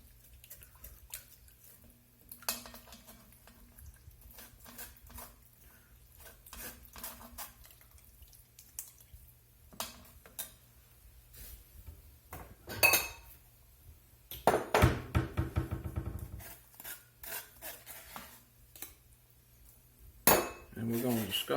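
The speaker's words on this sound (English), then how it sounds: "I'm going to do a batch at a time till I get all this chili sauce strained through." Chili sauce for steak chili being strained through a strainer in batches, with clinks and scrapes of metal utensils against the strainer and pot, liquid splashing now and then, intermittent and alone.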